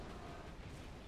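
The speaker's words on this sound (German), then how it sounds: "Oh, jetzt bekomme ich aber die Schüsse" Heavy naval shells slamming into a warship during a World of Warships battle, a dense, continuous rumbling barrage of impacts and explosions at close range with no voices over it.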